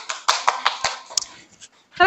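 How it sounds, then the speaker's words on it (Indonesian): Short burst of hand clapping for a student group in an Indonesian classroom, a handful of claps in an irregular patter that fades within two seconds, with voices briefly heard. "Tepuk tangan untuk kelompok"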